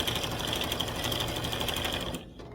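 A sewing machine stitches a quilt with a rapid, even mechanical chatter, close and continuous, then stops abruptly just before the end.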